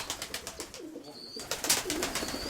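Pigeons in a rooftop loft give soft, low coos and murmurs close by, over a quiet background with faint rustling and a few sharper chirps.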